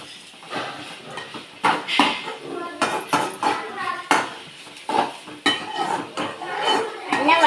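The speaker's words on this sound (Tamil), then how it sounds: "நல்லா வதக்கிக்கோங்க ஃப்ரெண்ட்ஸ்." Ingredients stirred in a pan with a touch of rock salt, a metal spoon scraping and clinking against the pan in an irregular run of sharp knocks, close and fairly loud.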